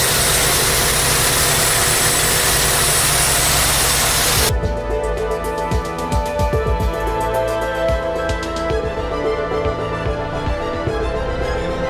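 A swapped engine in a Honda Accord Maestro CB7 runs steadily, its low idle rumble continuing under the sharp clicks and knocks of nearby work, loud and close.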